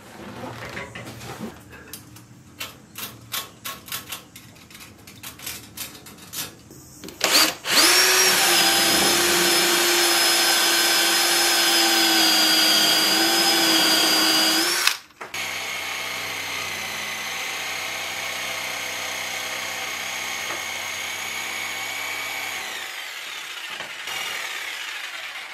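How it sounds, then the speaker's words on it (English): Power drill boring pilot holes in table saw dust ducting, a sustained loud whine running several seconds, then cutting off and resuming at a steadier pitch, preceded by scattered short knocks and handling noises. "those are the holes drilled, or the pilot holes"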